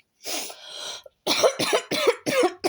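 A person coughs close to the microphone, one drawn-out cough and then a quick series of four or five sharp hacking coughs.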